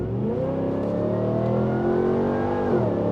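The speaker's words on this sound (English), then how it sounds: "you get all that great noise from the Stainless Works exhaust and that Whipple whine" A modified Ram TRX pickup with a Stainless Works exhaust and a Whipple supercharger holds a steady, heavy engine roar under acceleration, with a rising supercharger whine over it. The roar is close, and no one speaks.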